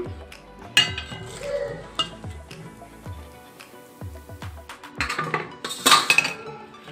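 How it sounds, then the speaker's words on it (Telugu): Small Telugu homemade sweets are lifted out of a pan and set one by one onto an empty plate, giving scattered close clinks and taps of utensil on metal and dishware at an irregular rhythm, with brighter clatter toward the end. "మనం వీటిని తీసేసి ఖాళీ పళ్ళెంలో వేసుకుందాం."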